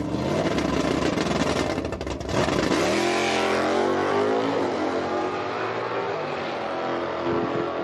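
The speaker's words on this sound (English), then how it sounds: "Watch this beautiful 69 Camaro get up." A 1969 Camaro race car launches down a drag strip with a loud, roaring engine that sweeps up through the revs. A brief stumble breaks the sound before it keeps pulling hard as the car accelerates away.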